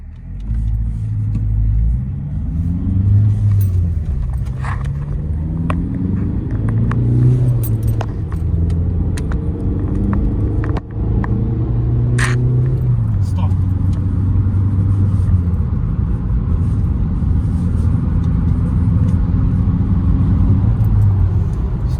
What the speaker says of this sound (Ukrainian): давайте попробуємо від нуля до сотки